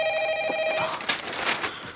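A telephone rings indoors with a steady bright electronic tone that breaks into a warbling trill partway through, close and fairly loud with no voices.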